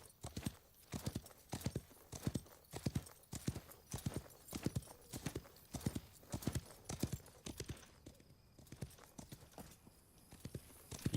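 Horse hooves clip-clop in the Wild West Online video game, a steady rhythmic trot of close, even hoofbeats continuing throughout with no talking.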